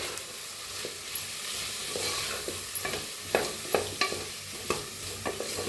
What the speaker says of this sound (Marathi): बघा मस्त असा भाजलं आहे मसाला